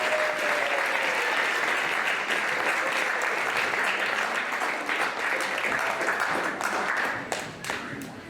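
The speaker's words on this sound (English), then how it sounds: "If we could give them all a welcoming applause" An audience at an arts performance gives a long welcoming round of applause, dense and even for about seven seconds before it tapers off into scattered claps.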